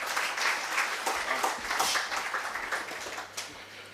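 An audience at a conference claps warmly to welcome a speaker, steady dense applause filling the room at close range and tapering slightly toward the end.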